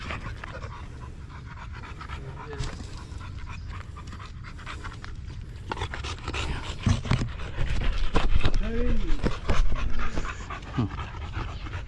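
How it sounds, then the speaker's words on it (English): A golden retriever pants steadily nearby while caring for its disabled owner. The rapid breaths get louder and more agitated toward the end, with a few faint whimpers. "There is Buding, the dog with the PWD, taking care of his master"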